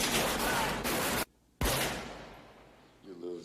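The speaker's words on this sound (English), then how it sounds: "Frankie and his crew emerge from hiding and ambush Richie's hitmen in a fierce gunfight" Gunfire in a fierce gunfight erupts as a dense burst of shots, then a brief silence, then one heavy blast that fades into a lingering tail before a voice briefly speaks.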